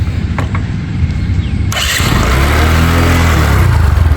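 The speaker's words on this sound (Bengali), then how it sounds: "এবার গাড়িটি আমি স্টার্ট দিই" A Bajaj Discover 100cc motorcycle fires up after a short electric-start crank, settling into a steady, close putter of the small engine running on its own.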